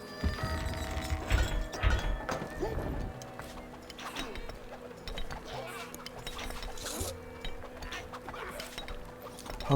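A castle gate smashed apart in a medieval strategy video game, with crashing, splintering impacts and thuds early on, followed by clattering battle noise and hoofbeat-like clops under game music.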